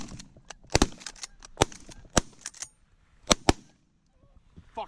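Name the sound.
shotgun shots during goose hunt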